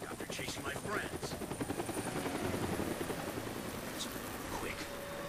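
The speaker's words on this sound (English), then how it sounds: "That's the helicopter chasing my friends." Helicopter in the video game Deadlight, a steady rotor chop with rhythmic thumping that holds throughout at moderate loudness, with a few faint effects layered over it.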